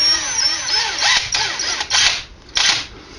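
A power drill bores and widens finger holes in a handmade wooden flute, its whine rising and falling in short, loud, close bursts with brief pauses between passes.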